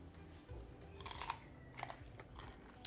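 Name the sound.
eating crispy salt and pepper shrimp, crunchy chewing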